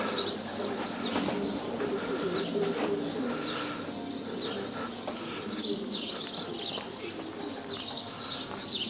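Racing pigeons coo at a Polish loft during a 500 km competition race, soft repeated coos and chirps over a steady outdoor background with occasional wing sounds.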